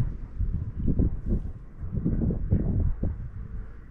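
Wind blows outdoors at a hunting and shooting spot, buffeting the microphone with a low, uneven rumble that swells and fades in gusts throughout.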